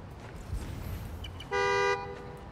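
A single loud car horn blast in the video game Spider-Man: Miles Morales sounds near the end, following a stretch of low ambient rumble.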